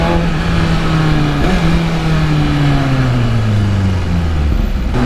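Motorcycle fitted with an aftermarket muffler, a loud close engine drone whose pitch sinks steadily as it eases off from high revs, with wind noise throughout and no talking.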